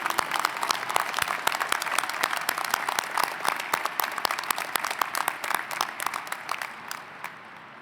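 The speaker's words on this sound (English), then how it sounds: "let's give a round of applause so that she can hear this when she sees it on video" A hall full of people applauding at a university business school spring commencement ceremony, dense sustained clapping that holds steady for several seconds before thinning out at the end.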